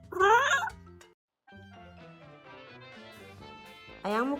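A kitten meows loudly in a rising, wailing yowl, then falls quiet for a moment, then gives a softer run of chirping mews, and ends with another loud, strained cry.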